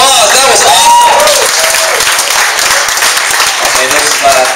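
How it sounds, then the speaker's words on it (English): A big round of applause from a seminar audience at a San Jose marketing talk, loud and dense continuous clapping with a few cheers and voices mixed in throughout. "Let's give it another big round of applause."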